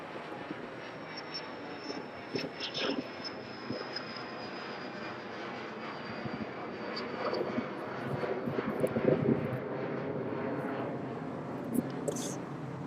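Jet aircraft departing East Midlands Airport at night, a steady distant engine roar with a faint high whine, holding broadly even and swelling slightly toward the end, with a voice briefly speaking over it.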